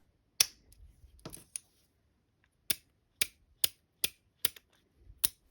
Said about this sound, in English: spin the cylinder through all 6 chambers, making sure you are completely unloaded